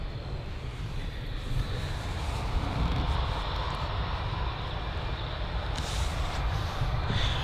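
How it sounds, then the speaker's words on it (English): Jet2 Boeing 737-800 airliner at Bristol Airport, a loud broadband jet engine roar that holds steady throughout, heard from fairly close with no talk. "it's the Jet2 737-800 heading to, I think that's Fuerteventura"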